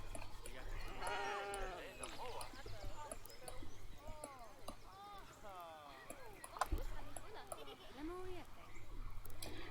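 Dall sheep in the Planet Zoo video game give several wavering bleats at low volume, mixed with soft hoof-like clops and ambient hum.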